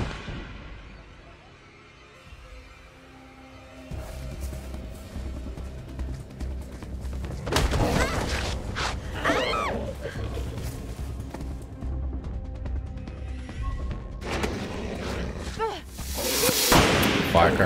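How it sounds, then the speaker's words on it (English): Firecrackers bursting at night in a crackling string of sharp pops, several loud clustered volleys separated by quieter gaps, near and harsh. "Firecrackers are handy."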